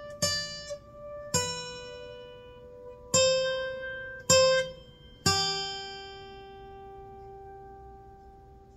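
Single plucked guitar notes pick out the opening of the Silent Night melody, five clear notes rising and ringing out one after another, the last left to sustain and fade, with no voice.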